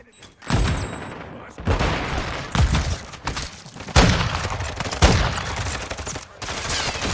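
Rapid bursts of gunfire in the Modern Warfare II first-person shooter game, loud and close, with repeated volleys and heavy booms following one another over several seconds.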